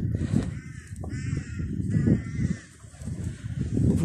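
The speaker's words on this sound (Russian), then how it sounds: "Вороны летают." Several crows caw repeatedly at a moderate distance over a steady low rumble of surf and wind on a foggy winter beach in Anapa, the harsh calls coming in short bursts.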